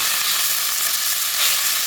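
Chicken thigh fries with ginger in a pan, giving a steady, close, bright sizzle that holds level throughout.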